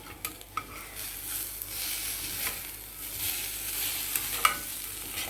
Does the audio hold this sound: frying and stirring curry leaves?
yes